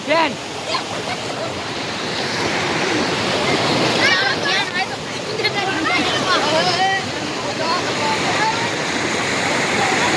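Floodwater surges through Surendranagar in Saurashtra, a loud, continuous rushing roar heard close, with people talking over it.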